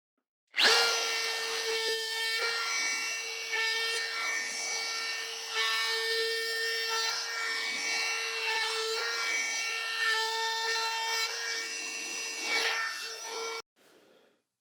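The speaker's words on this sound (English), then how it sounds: "we're going to take the trim router and put a nice edge on this" A trim router edges a black cherry wood door sign, giving a steady, loud high whine with a strong fixed tone that runs for about thirteen seconds and then cuts off abruptly, with no talking.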